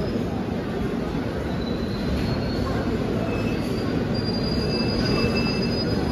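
Saptagiri Express passenger train between Chennai and Tirupati slowing to a halt, a steady loud rumble of rolling stock with high thin wheel squeals riding over it throughout, close and continuous.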